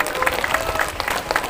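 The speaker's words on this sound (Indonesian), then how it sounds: "Tepuk tangan dulu." A crowd at an official ceremony gives a short burst of applause, close and busy clapping with some voices mixed in.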